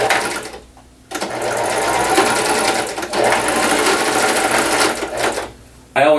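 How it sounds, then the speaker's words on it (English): A sewing machine stitches the sleeve seam of a robe in rapid, continuous bursts, loud and near, pausing briefly at the start and near the end, with a voice speaking over it. "I'm going to start at that mark I made and sew down to the cuff"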